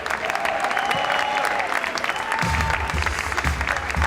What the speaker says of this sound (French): On applaudit bien fort Jamel Kaïbou, s'il vous plaît.